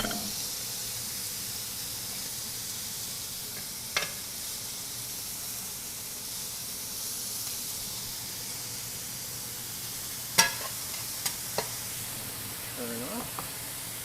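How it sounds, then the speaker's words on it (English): Burgers sizzle on a Chantal stainless steel griddle over a GE Cafe induction range, a steady close hiss with a few sharp pops and crackles scattered through it. "Start my second batch of burgers on the back."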